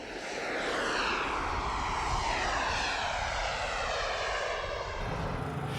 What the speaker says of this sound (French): le Petit Duc va s'élancer comme un avion de chasse grâce à ses 2 puissants réacteurs miniatures